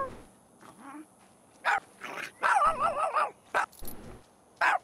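A dog barks in The Sims 3 video game, giving a string of short yips and bow-wows with a brief whimper, each separated by short gaps and heard up close.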